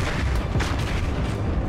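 Warship naval guns firing in World of Warships, a heavy rumbling boom filling the whole moment, loud and close, with rolling low thunder and no clear separate shots.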